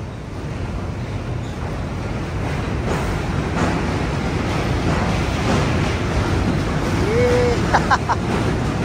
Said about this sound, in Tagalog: You can hear the sound of the train.